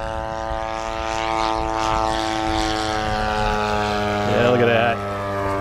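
A large 103-inch Seagull Models Morane Saulnier RC scale plane makes a low pass, its engine droning loud and steady with a strong harmonic buzz, swelling briefly near the end as it passes close.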